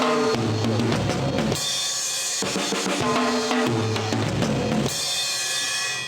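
A full drum kit works through a beginner fill pattern: rapid strikes rolling down the toms between steady groove bars with cymbals, repeated twice, close and loud without voices.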